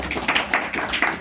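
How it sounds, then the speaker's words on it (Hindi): Audience applause at a bhajan evening, a short burst of brisk clapping from a gathered crowd, close and fairly loud, with uneven individual claps standing out. "जोरदार ताली।"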